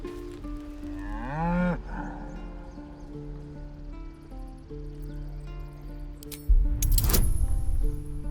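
An ox lows in Baldur's Gate 3, a single rising and falling moo near the start over a soft ambient game backdrop, followed later by a louder rumbling burst.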